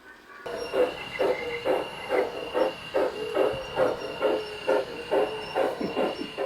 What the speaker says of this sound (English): So on a day when I have time, I love to come down here and run trains.